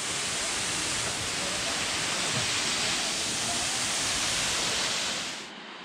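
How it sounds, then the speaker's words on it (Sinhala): Diyagiri waterfall near Nawalapitiya, Sri Lanka, a dense, steady roar of falling water that fills the whole clip before cutting off abruptly near the end. "මේ තමයි දියාගිරි ඇල්ල."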